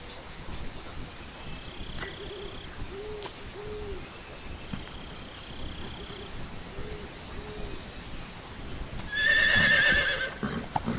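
In Metal Gear Solid 3, a quiet outdoor game scene carries repeated soft owl hoots before a horse suddenly gives one loud, close whinny near the end.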